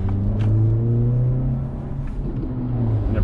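An Acura Integra engine blips and rises in revs as auto rev matching works during a downshift on a drive, a close mid-pitched hum that climbs, dips and climbs again under cabin road rumble.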